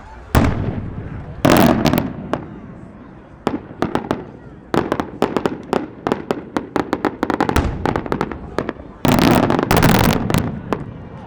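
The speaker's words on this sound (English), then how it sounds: "contains 1 timing of tiny reports, teeny tiny reports, and then a second break of 3 timings of small reports" American-made multi-break cylinder firework shells burst overhead, each break ending in rapid crackling volleys of tiny and small reports; loud, sharp pops come in clustered runs with pauses between breaks, and people talk underneath.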